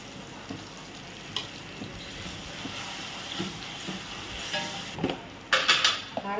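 Ginger and garlic paste sautéed with softened onion and tomato in a pan, a steady moderate sizzle close by, with occasional spoon scrapes and clinks and a louder burst of frying and stirring near the end.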